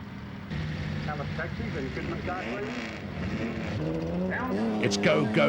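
A Datsun rally car in the Finke desert race, a 1990 Australian event, drives off with its engine revving up and changing pitch, heard under a commentator's voice and crowd noise.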